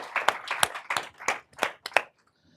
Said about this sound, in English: Another round of applause for Chris for his presentation.